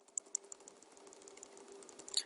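Keys clatter on a computer keyboard, a few sharp taps standing out before a final firmer press of the enter key, close and quiet against a faint steady hum.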